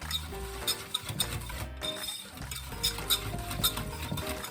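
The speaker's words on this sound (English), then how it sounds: "I just sort of stir in a circular motion or back and forth. Always scraping." Muffin batter stirred and scraped around a bowl, with steady soft scraping and irregular light clinks of the utensil against the sides, close and continuous throughout with no talk.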